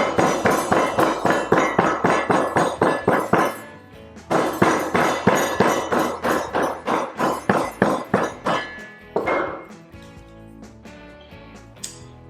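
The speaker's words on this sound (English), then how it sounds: "I'm going to use the broad end of my rammer, and I'm going to ram throughout the whole mold" A hand rammer packs foundry sand into a mold in regular, evenly spaced thuds, about three per second, in two close, loud runs separated by a brief pause, then trailing off.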